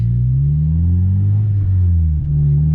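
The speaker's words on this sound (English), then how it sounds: "Give you guys a little sound clip of what it's like inside the vehicle right now. It's very deep." Inside a Honda Civic EJ1 with a D16 engine and Vibrant exhaust, a deep, steady low drone fills the cabin, loud and constant, with a slight pitch dip near the end and no talk.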